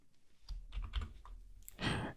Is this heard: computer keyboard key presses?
yes